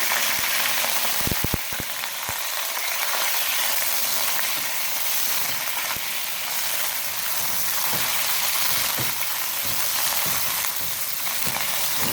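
Mutton pieces fry in oil with black cardamom and spices, a loud, close, crackling sizzle with sharp spattering pops early on and a steady hiss throughout, no voices.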